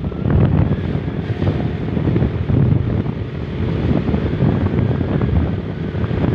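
Strong wind buffets a cellphone microphone at a seaside resort, a steady, heavy low rumble of gusts roaring without pause throughout.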